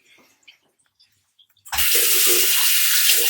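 Tap water gushes on suddenly after a near-silent moment and then runs steadily and loudly into a sink, splashing while someone dampens their face before cleansing with a Foreo Luna 3 facial brush.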